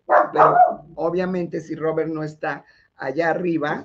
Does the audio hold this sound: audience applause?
no